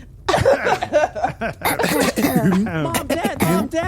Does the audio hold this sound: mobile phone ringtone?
no